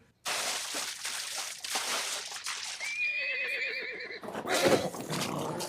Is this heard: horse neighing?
yes